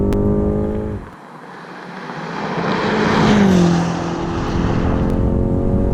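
A 2020 BMW M5 Competition sedan driven fast through a tight canyon road, its engine note dropping off then building to a loud, sustained rising roar with shifting pitch as it accelerates.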